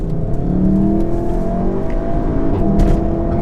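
A 2019 Volkswagen Golf R engine revs hard through an Akrapovic sport exhaust with open valves, a deep, throaty roar building and surging close by as it accelerates.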